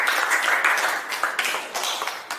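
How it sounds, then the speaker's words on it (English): Classroom applause from a group of students, a steady dense patter of many hands clapping that fills the whole moment at moderate loudness, with faint voices mixed in. "Give applause for your friend."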